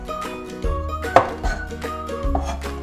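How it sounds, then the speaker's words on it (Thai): A knife strikes a cutting board in a series of crisp, irregular chops, close by, with brief pauses between cuts, chopping two cloves of garlic. "เรามาหั่นกระเทียมนะครับ"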